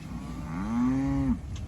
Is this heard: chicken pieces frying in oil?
no